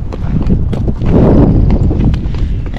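A Spotted Saddle Horse moves around a round pen with loud, close, rapid hoofbeats in a steady clip-clop rhythm, heavy ground thuds underneath, and no talk.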